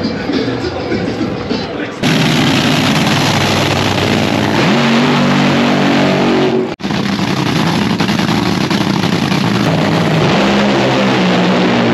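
Drag racing cars at the Phoenix Nationals, loud roaring engines that burst in abruptly and hold a harsh, dense blast with rising pitch sweeps, with a brief cutout midway before the roar resumes.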